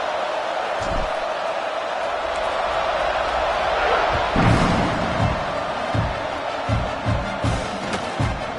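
A college football stadium crowd roars as a steady, loud wash of noise before a kickoff, with scattered thumps and bursts of cheering rising from the stands.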